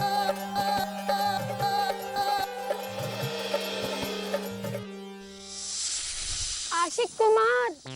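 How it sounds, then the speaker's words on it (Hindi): A snake in a hilly area gives a long, loud, breathy hiss that rises sharply after a steady musical passage, with a brief voice-like wail near the end. "ये सांप हमें डसने को है तैयार।"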